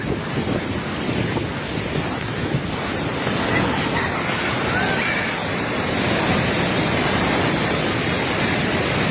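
A flooded river in Nepal rushes past, carrying stones, as a loud, continuous, broad roar of churning water with wind buffeting the microphone and no clear speech.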